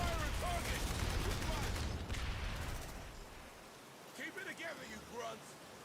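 Dense, sustained gunfire in the Aliens: Dark Descent video game roars loud and continuous for the first few seconds, then thins into scattered bursts over swelling ambient noise and game chatter.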